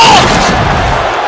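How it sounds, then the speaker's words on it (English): A wrestler slams through a ringside barricade at a live wrestling show, a sudden loud crash at the start that decays into crowd noise. "Samus sending Revie through the barricade."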